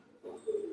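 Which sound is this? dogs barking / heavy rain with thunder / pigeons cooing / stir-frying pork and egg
pigeons cooing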